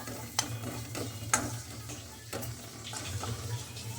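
Coriander, chilli and turmeric powders frying on low heat in a pan for mutton gravy, with a low steady sizzle and a few sharp scrapes of a spoon, quiet and close.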